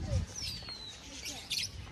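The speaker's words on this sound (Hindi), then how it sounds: "चिड़ियों की, बर्ड्स की चहचहाटें जो होती हैं, चहचहाटें वो आ रही होंगी आपको।" Caged lovebirds chirping, faint thin tweets and a short higher flurry of calls heard against a steady background hum, with some low voice murmur nearby.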